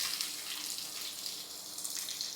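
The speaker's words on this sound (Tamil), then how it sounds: "தண்ணி போட்டுக்கலாம்," Water goes into a pan of hot oil with tempering spices while making an intestine (kudal) gravy, giving a steady, quiet rushing hiss that holds for a couple of seconds.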